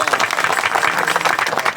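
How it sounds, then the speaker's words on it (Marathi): A crowd at a kirtan claps steadily in a full, continuous round of applause with dense, even hand claps close by. "टाळ्या वाजवा जरा"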